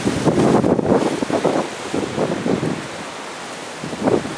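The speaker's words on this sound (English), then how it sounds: "But you can see the wind." Strong storm winds buffet the microphone in uneven gusts, loud rushing surges swelling and easing over a continuous windy roar, with no one speaking.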